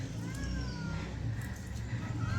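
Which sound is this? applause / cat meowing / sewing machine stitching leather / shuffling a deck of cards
cat meowing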